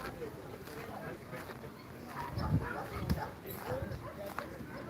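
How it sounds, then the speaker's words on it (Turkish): German Shepherds bark and yip a few times at a dog competition in Bursa, Turkey, amid overlapping talk and background noise, the barks moderately close. "güzel köpekler var"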